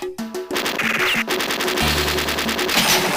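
Heavy machine gun in the arcade game Metal Slug X firing rapid, loud bursts of shots in a steady rhythm alongside game music and effects.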